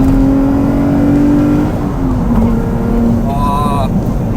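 Lotus Evora sports car with a Lotus ECU and swapped muffler, its engine revving and pulling under acceleration from inside the cabin, a sustained loud drone that shifts pitch as it climbs and changes gears.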